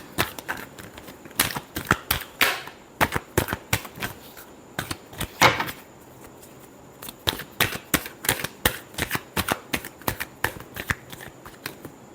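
Tarot cards being shuffled by hand, repeated crisp riffling bursts in short rhythmic clusters, close and clear, with a brief pause midway and no talking.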